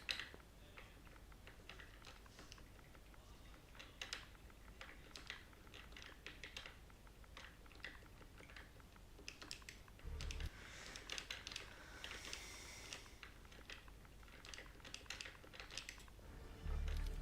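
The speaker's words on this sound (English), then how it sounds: "See that speed typing there." Fast typing on a computer keyboard, rapid continuous key clatter with dense clicks and a few heavier strokes, close and fairly quiet, with no talking.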